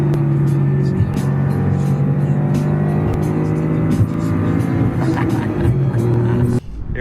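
Porsche 911 Safari project car with new suspension on a final test drive, its engine droning steadily and loud throughout from close by, then dropping off abruptly near the end.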